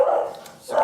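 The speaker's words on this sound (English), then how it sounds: "Speaking of security, that's our security dog." A dog gives two loud, close barks or yips in quick succession indoors at home.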